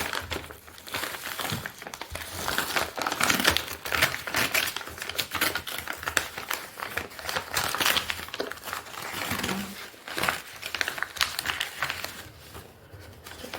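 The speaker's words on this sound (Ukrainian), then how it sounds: "шеф Франк прийняв всю посилочку з книжками і зараз розпаковую" Parcel of books being unpacked: steady crinkling and rustling of packaging with papery handling clicks and shuffles, close and continuous throughout.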